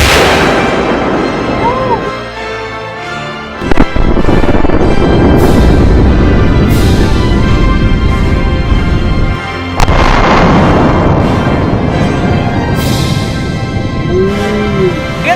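Kaboom and Gryphon binary exploding targets detonate together in one sharp, heavy boom, followed by a second blast partway through and a long rumbling, echoing roar outdoors, loud and close, with faint voices in the background.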